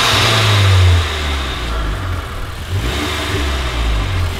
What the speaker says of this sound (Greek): Νομίζω αξίζει να πάρουμε για μια γεύση για το πώς ακούγεται αυτό το φίλτρο.